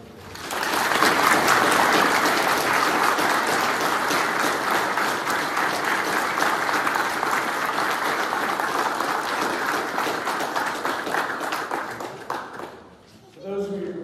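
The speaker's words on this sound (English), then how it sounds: "I think we can give them all another big round of applause." A church congregation at a Mass in Trowbridge breaks into loud, sustained applause that holds steady for about twelve seconds before tapering off, with a voice starting to speak at the end.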